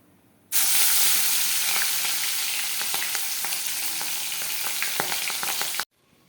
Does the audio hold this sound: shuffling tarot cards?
no